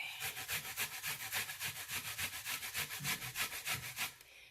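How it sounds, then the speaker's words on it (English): Plantains are grated by hand in a fast, steady rhythm of rasping strokes, about six per second, close but fairly quiet, stopping just before the end. "So we're going to continue grating our plantains"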